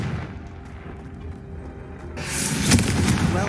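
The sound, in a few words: Confringo fire spell blast in the video game Hogwarts Legacy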